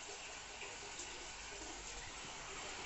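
Water runs steadily into a reef aquarium tank as it fills, giving an even, unbroken rushing hiss that stays faint and constant throughout.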